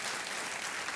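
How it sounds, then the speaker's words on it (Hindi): Studio audience applause for a contestant on a televised quiz show, a brief burst of dense, even clapping at a moderate distance with no voices over it. "एक बार इनका स्वागत किया जाए तालियों के साथ।"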